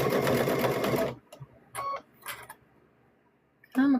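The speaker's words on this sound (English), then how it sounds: "So we're going to sew across here." A sewing machine stitches fabric for a handmade stuffed bear in loud close bursts: a long steady run of stitching, then several shorter stitch bursts separated by pauses.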